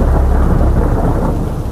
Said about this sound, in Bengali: মাথায় অ্যাডবেস্টসের ছাদ, তার উপর আওয়াজ করে বৃষ্টি পড়ছে, ঠিক যেন কেউ টিন পেটাচ্ছে